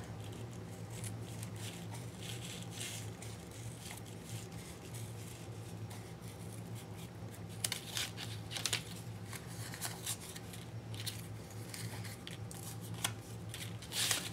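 Scissors cut through a Tyvek postal envelope with soft, repeated crisp snips and papery rustles under a steady background hum, growing a little sharper and more frequent in the later part, with nobody speaking.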